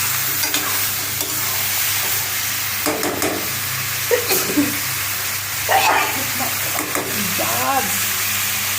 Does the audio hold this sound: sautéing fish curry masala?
yes